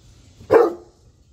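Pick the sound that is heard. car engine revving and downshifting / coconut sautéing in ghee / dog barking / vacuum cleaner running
dog barking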